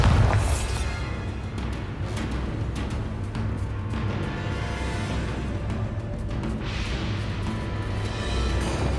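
A Bombarda explosion spell in the video game Hogwarts Legacy opens with a loud booming blast, followed by a long rumbling, crackling tail and scattered smaller impacts that swell again near the end.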